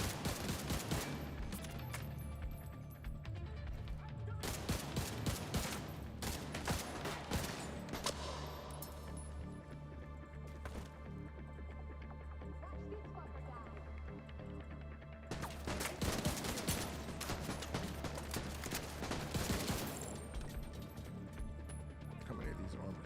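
Turret gunfire in The Division 2, dense rapid bursts of automatic fire running almost continuously with brief lulls, loud and close.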